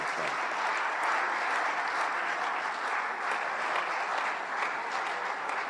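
At a diplomatic New Year ceremony, a large hall audience gives steady, even applause, dense and fairly soft, with no voices over it.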